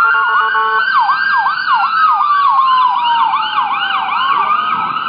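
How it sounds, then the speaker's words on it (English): Emergency sirens wail near Straub Hospital and a police station in Honolulu, with a loud, close siren sweeping up and down in rapid repeated cycles over faint street noise. "We're very close to Straub Hospital and the police station, so you hear a lot of sirens."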